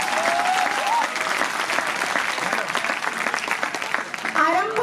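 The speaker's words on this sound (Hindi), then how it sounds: "एक बार जोरदार तालियां और मंच संचालक के लिए।" Strong, sustained applause from a poetry-recital audience, honoring the stage host, dense and continuous from start to finish with a few brief tonal squeaks on top.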